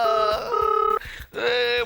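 A telephone rings in bright, repeated electronic trills, two long bursts separated by a short pause, clear and fairly loud indoors.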